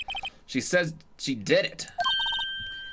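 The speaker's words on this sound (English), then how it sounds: "I know that song your phone plays when it rings." A phone ringtone playing the Steel Samurai theme from the Phoenix Wright: Ace Attorney game, a short repeating electronic melody that comes in at the end of a brief spoken line.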